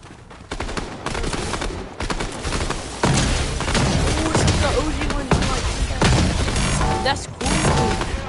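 Gunfire in the video game Fortnite: dense bursts of rapid shots and impacts stacked in a loud, continuous barrage, with some gaps between volleys.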